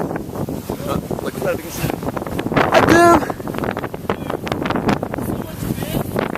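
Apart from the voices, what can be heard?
strong wind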